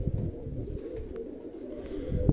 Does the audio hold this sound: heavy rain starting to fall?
no